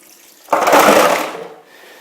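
Water splashes and pours out as the drip tray of a Lavazza Evoluzion capsule coffee machine is emptied, one close, loud gush lasting about a second, alone.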